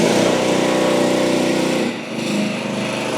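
A Chinese mini skid steer's small engine runs steadily nearby with a loud, buzzing drone that dips briefly and then picks back up.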